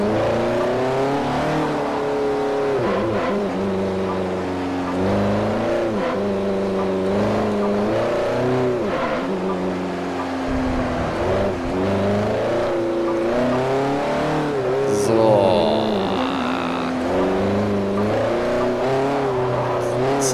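A Saleen S5S supercar engine in Forza 4 racing continuously, loud and near, its revs climbing and dropping through gear changes with a brief squeal near the end.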